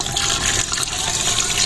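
Water poured into a large pot of desi chicken being cooked outdoors in a village setting, a continuous close splashing gush that fills the whole short moment.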